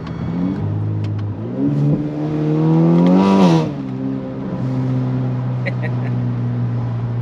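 A turbocharged Honda Accord engine with a catless downpipe idles close by, then revs up sharply and drops back to a low steady drone.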